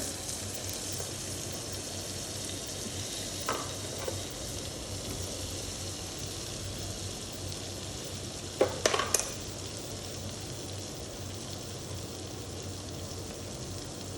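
Butter and spice masala for butter chicken fries gently in a pan with a soft, even sizzle, quiet and close, with a few brief clicks of a utensil stirring.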